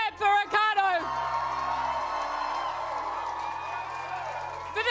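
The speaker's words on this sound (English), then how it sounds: "Give a big clap for Ricardo." Crowd at a New Zealand election night campaign event claps and cheers steadily after a brief whoop, a dense wash of applause that carries on under a speaker's amplified voice.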